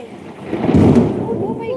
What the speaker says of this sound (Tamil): மின்னல் வெட்டுது